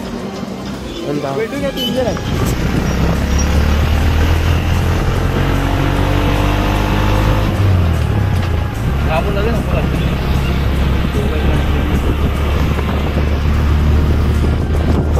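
Close, steady engine drone and road rumble from inside a moving auto rickshaw, with wind buffeting the microphone and voices talking over it throughout.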